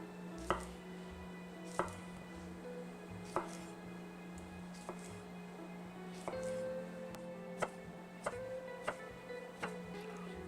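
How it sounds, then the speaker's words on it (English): A knife cuts a cucumber into finger-wide slices on a board for smoked salmon appetizers, with sharp single chops spaced about a second or more apart over a low steady hum, close and fairly quiet, with no talk. "We're going to cut them about a finger wide in some nice slices here"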